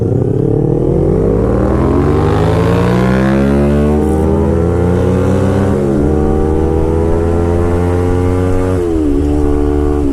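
A Kawasaki Ninja 250 motorcycle accelerates hard through the gears, its engine note climbing in pitch and dropping at each upshift, loud and continuous for about ten seconds without talk.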